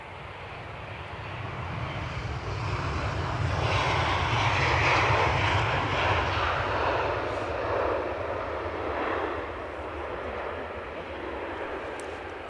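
Ryanair airliner from Copenhagen landing at Edinburgh Airport, a broad steady jet roar that builds to a peak mid-clip and then slowly fades, heard from nearby with no voices.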